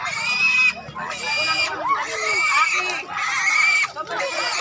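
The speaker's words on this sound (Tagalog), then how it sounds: "Meron siyang baboy." A piglet squeals in repeated loud, strained bursts during a provincial fiesta game of catching piglets in mud, with crowd noise and voices throughout.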